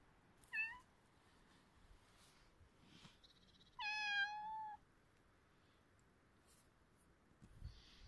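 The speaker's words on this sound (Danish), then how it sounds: "Nu står der en kat og piver hernede." A feral cat outdoors gives two clear meows, a short one first and then a longer, rising cry a few seconds later, nearby against a quiet background.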